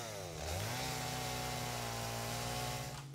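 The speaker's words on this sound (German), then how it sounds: "So, nochmal einmal die Kettensäge." A chainsaw runs in the game Satisfactory, revving up quickly and then holding a loud, steady buzzing drone for about three seconds, close and with no voices.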